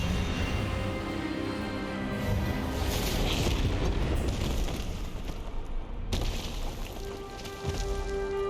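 The Expelliarmus spell is cast in the Hogwarts Legacy video game, a loud, rumbling magical blast that swells and booms, then cuts sharply into a quieter tail.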